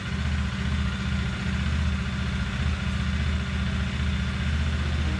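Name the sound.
CFMOTO 150 NK motorcycle engine starting and idling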